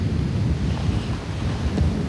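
Cold Tube wind sweeps a limestone mountain ridge at 1600 metres, a dense, rumbling gust noise buffeting steadily and loudly with no voices.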